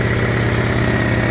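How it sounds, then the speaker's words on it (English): Honda EJ6 car engine idles close by with a huge exhaust leak, a steady loud rumble carrying rapid, rough puffing pulses with no voices. "I got a huge exhaust leak. You can hear it."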